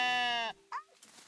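A sheep in the video game Tiny Glade gives a clear, drawn-out bleat for about half a second, followed by a shorter, softer second bleat.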